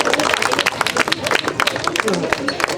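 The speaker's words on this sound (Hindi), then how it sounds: "ताली तो बनती है भाई।" An audience claps steadily through a charity walk award ceremony at the 2022 Walk a Mile for a Cause event, a dense patter of hands with a busy crowd murmur underneath.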